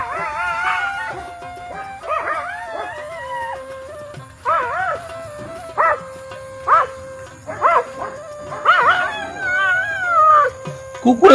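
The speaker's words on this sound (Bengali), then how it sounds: "কুকুরে শিয়াল ধরছে" Several dogs chasing a jackal howl and bark in repeated, wavering bursts, with short yips between, moderately close; faint voices occasionally sound behind them.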